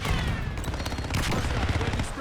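Rapid gunfire bursts in the video game Call of Duty Black Ops, dense overlapping shots and explosions filling the mix, with a player voice talking faintly underneath.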